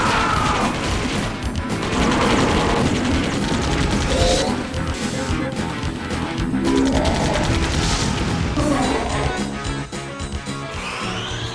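Gunfire and crashing impacts from the Riana Rouge video game, a dense, loud barrage of repeated shots and smashes. Game music or effects run under it for the whole stretch.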